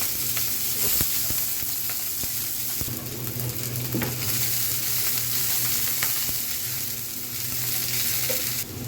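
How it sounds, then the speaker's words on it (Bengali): Chopped onions and green chilies fry loudly in hot oil with garam masala, a dense, continuous sizzle with occasional stirring clinks and scrapes, close up. "গরম মশলাটা একটু ভাজা হয়ে গেলে এখানে অনেকগুলো পেঁয়াজ আর কাঁচামরিচ কুচি দিয়ে দিব।"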